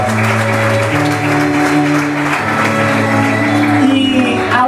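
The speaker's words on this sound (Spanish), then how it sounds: "un fuerte aplauso, muchas gracias por vuestro compromiso" Loud, dense applause fills a public event honouring the authorities, sustained clapping from a large crowd with no voices breaking through.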